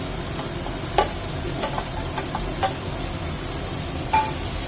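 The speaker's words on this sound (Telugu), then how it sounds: "ఇది కూడా ఒకసారి మనం మసాలాలో వేయించేద్దామండి." Peas, carrots and beans frying in masala and ghee in a pan: a constant close sizzle with a few sharp clicks and scrapes as the vegetables are stirred.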